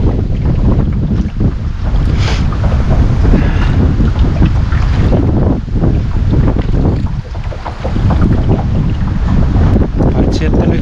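Strong wind buffets the microphone aboard a small boat trolling for fish at sea in Mustasalmi, Finland, with waves sloshing against the hull in a loud, continuous roar.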